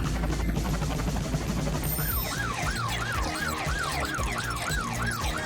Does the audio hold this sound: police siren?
yes